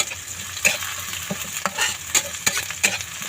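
Onion and garlic sauté in a hot pan with a steady, close sizzle and crackle, broken by repeated sharp scrapes and taps of a utensil stirring.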